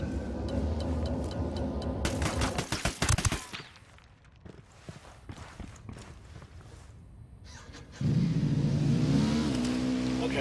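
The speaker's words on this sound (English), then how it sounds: "I'm hearing engine noise." A vehicle engine in Ghost Recon Wildlands revs hard and roars, cuts out, then returns loud after a stretch of scattered sharp impacts and quieter rumbling.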